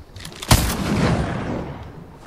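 A single loud shotgun blast from Fortnite, sharp and close, followed by a short decaying rumble and tail.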